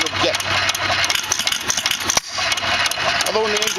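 A cold Hercules 1 1/2 hp hit-and-miss engine runs and warms up, with rapid rhythmic chuffing and rattling and a brief dropout midway, heard up close.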